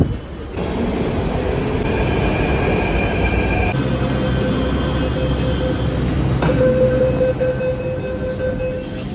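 Inside a Delhi Metro carriage, a steady rumbling roar of the moving train with faint tonal whines and a rising squeal near the end.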